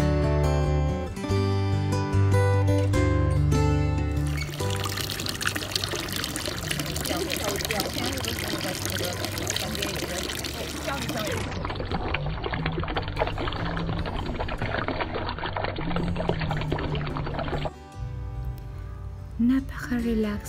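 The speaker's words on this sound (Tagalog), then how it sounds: "Napaka-relaxing talaga ng tunog ng tubig. Hindi lang galing sa alloy ng tubig na ito from the fountain" Water from a fountain at a resort flows and splashes in a steady rushing wash, loud and continuous throughout, with music playing over it.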